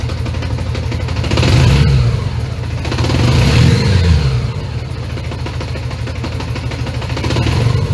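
Honda Goldwing GL1100 motorcycle engine running steadily during a carburetor sync, a loud close rumble with gentle periodic swells in revs, no voices.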